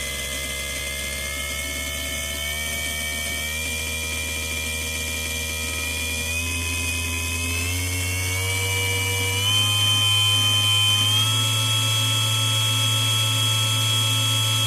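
A BOMA inrunner electric motor whines at high speed, its pitch climbing in steps with uneven, stuttering wobbles in the tone, plus a low steady hum underneath, close and continuous without speech.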